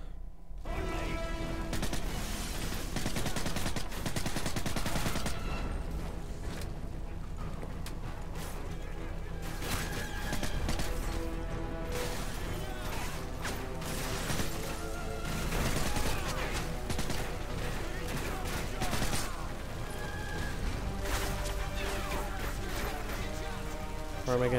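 Gunfire in the video game Modern Warfare 3: dense, continuous battle noise with repeated shots, impacts and crashes, heard under game music and voices for the whole stretch.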